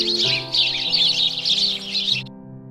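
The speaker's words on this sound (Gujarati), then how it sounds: "ચકલી" Cartoon sparrow chirping in rapid, bright repeated tweets over a sustained musical backing, loud and close, stopping abruptly near the end.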